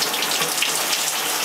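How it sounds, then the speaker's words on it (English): Shower water runs steadily after a training session during a contrast shower, a constant broadband hiss of spray with no talking, close and even throughout. "I want to show you guys what it's like doing a contrast shower."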